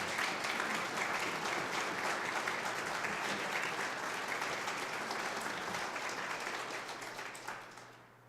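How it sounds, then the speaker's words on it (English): An audience gives a full, sustained round of applause at an oath of office ceremony, steady clapping that gradually fades out toward the end. "can we just have a round of applause for Paul and Angelo"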